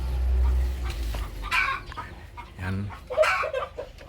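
Several chickens, including Rhode Island Red and Brahma hens, cluck and chatter close by, with a low rumble at first and a brief spoken word in between.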